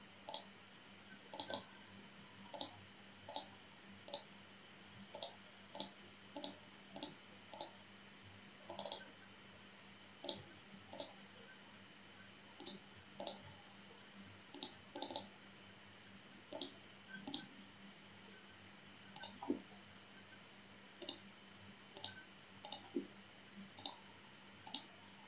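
A computer mouse clicks repeatedly while lines are digitized in ArcMap, faint crisp clicks, mostly in quick pairs, spaced through a quiet room with a steady low hum.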